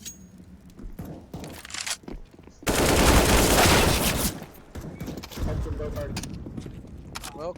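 Video game gunfire from a British Army team match at a live esports event, a dense loud volley in the middle with scattered shots before and after, under excited commentary.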